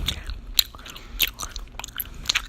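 Close, wet gum chewing with small crackly snaps and smacks recurring in an irregular rhythm, soft and intimate in a quiet room with no talking.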